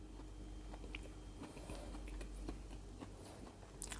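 Someone chews a homemade potato donut close to the microphone, giving soft irregular mouth clicks and moist chewing sounds against a quiet background.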